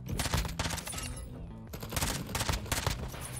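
An MP5 submachine gun fires in a video game, loud rapid bursts of gunshots packed closely together with only a brief lull partway through.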